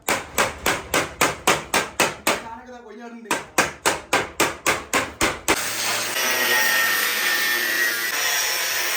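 Repeated hammer blows knock hardened concrete off the bottom of a door frame during a steel door installation, two fast runs of about eight evenly spaced, loud, close strikes separated by a short pause, then steady rough scraping noise.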